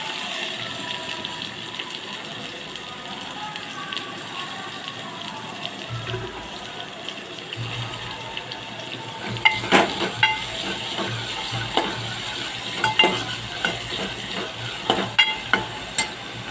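Chopped onion frying with mustard seeds in hot oil in a home kitchen. A steady sizzle runs throughout, and sharp crackles and pops cluster in the second half, close and alone with no talk.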